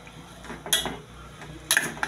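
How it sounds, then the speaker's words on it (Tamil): Ladle clinks and scrapes against a pan while mango pachadi is stirred, two distinct metallic clatters about a second apart over a low kitchen background, no talking. "கரண்டியால் ஒரு கிண்டி விட்டுட்டு"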